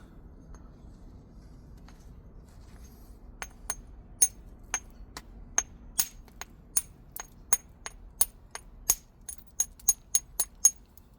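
Glass Buttes obsidian struck with a hammerstone while flintknapping gives a run of about twenty sharp, glassy clicks, irregular at first then quickening into a steady tapping rhythm, close and clear against near silence.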